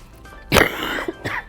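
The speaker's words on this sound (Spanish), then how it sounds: "Si me pesca un acceso de tos, pues voy a toser" A single harsh cough from a man on a live talk show, close and loud, followed by fainter breathy throat noise and a short second burst.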